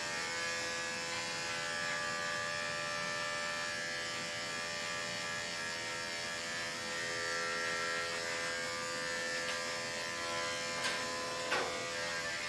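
Electric dog clippers run continuously at close range, trimming a dog's hair with a steady, even buzzing drone that barely changes, ending with a couple of faint clicks.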